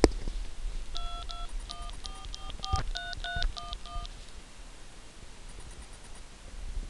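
Telephone number being dialed on a keypad, a quick run of about a dozen short touch-tone beeps in an uneven rhythm over faint rustling background noise, with no talk.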